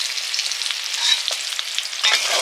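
Fish fat sizzling and frying in its own rendered oil in a pan, a continuous crackling hiss with small pops and the occasional stir, no voices.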